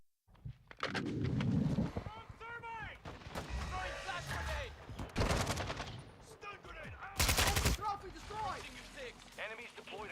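Gunfire in a first-person shooter video game, an AK-74U among the weapons, with rapid bursts and single loud shots cracking throughout amid explosions, close and sharp, while a player talks over the action.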